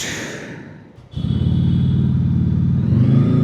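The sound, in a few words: motorcycle engine starting and revving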